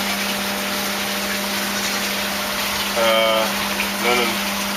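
A water pump runs in a recirculating tilapia tank system, a steady low hum with continuous water rush, joined near the end by two short bursts of a voice or tonal sound over the drone.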